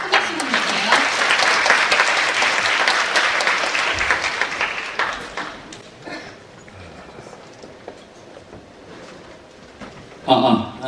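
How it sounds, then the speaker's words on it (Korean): Lecture-hall audience at a Korean youth career talk clapping to welcome a Microsoft MVP speaker: dense, loud applause that gradually thins and fades, followed by a brief burst of clapping at the end. "큰 박수 보내주세요"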